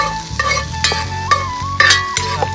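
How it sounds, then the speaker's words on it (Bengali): Chital fish frying in hot oil in a pan, a steady close sizzle with repeated stirring scrapes and light clinks of a utensil against the pan throughout. "আমি এখন এই কিছুটা শীতল তেলে ভেজে নিচ্ছি।"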